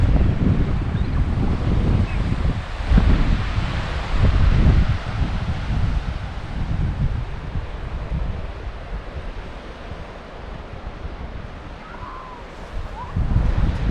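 Strong wind buffets the microphone along the Atlantic coastline, a loud rumbling roar that gusts and eases, with surf-like wash underneath.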